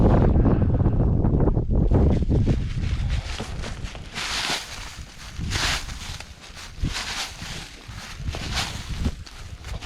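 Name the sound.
wind blowing outdoors, wind noise on microphone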